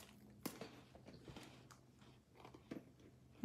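Tim Tam chocolate biscuits being bitten and chewed: a crisp bite snaps out, followed by scattered soft crunches and mouth sounds, close and fairly quiet with no talking.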